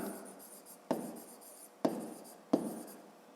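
Pen writing on paper during a fifth-grade math exercise, a soft continuous scratching broken by three sharp taps or strokes, close and quiet.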